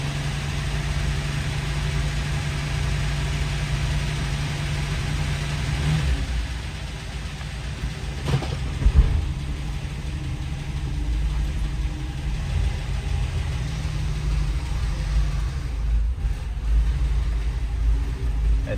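A 1979 Dodge Aspen's carbureted engine idles roughly and steadily up close, a continuous low rumble with a slight shift in tone partway through and a brief knock or thump near the middle.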